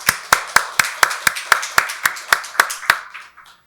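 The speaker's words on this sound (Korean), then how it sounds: "박수로 하나님께 영광 돌리겠습니다" A congregation at a Korean church Sunday service claps together in unison. About a dozen sharp, evenly spaced claps fall in a steady rhythm and then stop abruptly.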